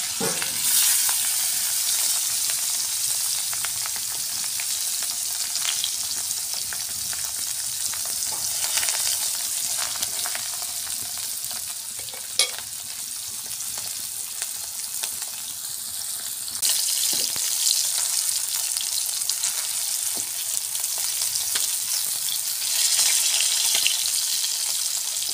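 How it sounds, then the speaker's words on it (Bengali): Rohu fish belly pieces fry in hot oil in a pan in a village kitchen, a dense continuous sizzle running the whole length with occasional stirring clinks and no talk. "রুই মাছের পেটিগুলা ভালোভাবে ভেজে নেব।"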